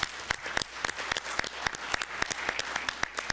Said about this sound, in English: All right, let's give them another big round of applause.